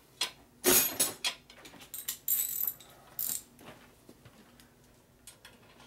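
A ratchet wrench tightens bolts on a Harley shovelhead big-bore stroker motor. Quick, close clicking bursts come in irregular runs of strokes, then fade into quieter, sparse clicks.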